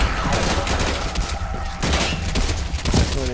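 Rapid bursts of gunfire in the zombie shooter Left 4 Dead 2, sustained and loud throughout with dense overlapping shots and brief breaks.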